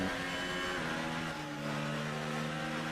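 A race car engine in a racing video game drones steadily at high revs, dipping briefly in pitch as the throttle lifts before holding its tone again, loud and close throughout.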